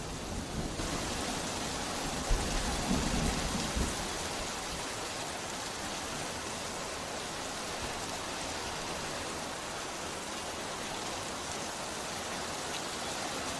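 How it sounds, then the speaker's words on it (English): Steady rain from a BTS comeback trailer plays as a broad, even hiss for the whole stretch, with a louder low rumble around two to four seconds and no talk over it. "It looked like the rain is being reversed or something like that."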